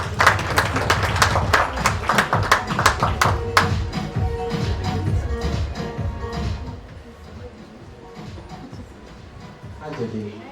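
Applause at a P.A. awards ceremony starts as sharp, rhythmic claps close by, then thins into looser scattered clapping and shuffling that fades toward the end.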